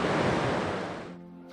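A creek in Red Lodge, Montana rushes with loud, dense broadband flow that cuts off sharply near the end, leaving a faint low hum.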